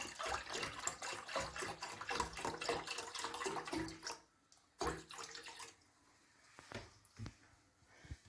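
Milk pours into a cooking pot for homemade yogurt, a close liquid splashing and gurgling stream for about four seconds, then a brief second pour and a few light clinks and knocks.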